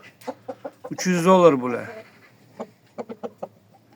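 Large roosters, a heavy breed topping 5 kg, offered for sale in a yard call out with a drawn, rising cry in the middle of nearby conversation, surrounded by short bursts of talk.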